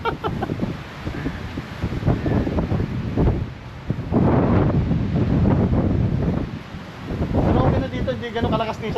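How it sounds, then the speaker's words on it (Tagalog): Strong wind roaring across a beach and carrying sand, buffeting the microphone in heavy gusts that swell and fade, with people talking intermittently beneath the noise. "sobrang lakas ang hangin, pati buhangin kasama"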